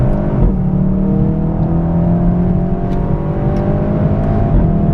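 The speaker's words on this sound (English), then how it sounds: "Try and let the motor rev out a bit more before you change it." A car's engine revs steadily and loudly through an advanced driving run, holding a continuous whirring drone with a gently rising pitch and no talk over it.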